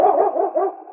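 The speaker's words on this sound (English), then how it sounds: "swiftest and strongest lead dog of the Northwest" Lead sled dog of the Northwest in a radio drama, one loud, close bark drawn out into a brief howling yelp, heard alone.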